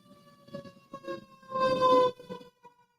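A Dedham Fire ladder truck siren sounds at a distance, a wailing tone that swells loud for about half a second and then fades amid background noise.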